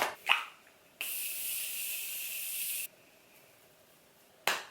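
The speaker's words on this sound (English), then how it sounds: "Oh, and I need setting spray." A single sustained spray of makeup setting spray hisses for about two seconds, close and clear, followed by a short click; otherwise quiet.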